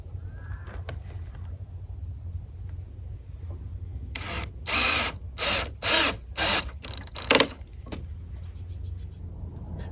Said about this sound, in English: now we're going to use these screws and put it in.